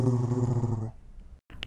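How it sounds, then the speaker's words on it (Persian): A small dog growls close by in a low, rough, sustained rumble lasting almost a second, then quiet, with a brief faint noise after a short gap. "اون صدای سگ من پیپه"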